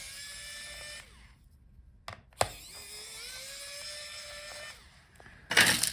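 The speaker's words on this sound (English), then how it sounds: "So unscrew all the screws." Small electric screwdriver unscrewing the screws on a Dell Precision 5770 laptop heatsink: two quiet, high whirring runs, each lasting a couple of seconds, with a sharp click between them and a louder handling clatter at the end.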